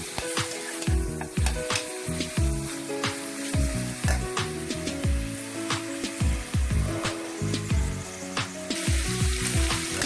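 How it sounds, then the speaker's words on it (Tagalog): Ground beef sizzles and fries steadily in a pan while being cooked for a white fettuccine sauce, with repeated stirring scrapes and clatter close up over a constant crackling hiss, no talking. "Let's cook the beef first."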